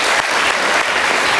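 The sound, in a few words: studio audience applause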